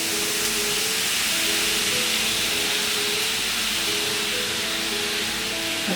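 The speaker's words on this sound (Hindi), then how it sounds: "अब हम इसमें थोड़ा पानी स्प्रिंकल करेंगे।" Water sprinkled onto a hot dosa pan on a gas stove gives a steady, broad hissing sizzle that holds at an even level throughout, with a faint low hum beneath.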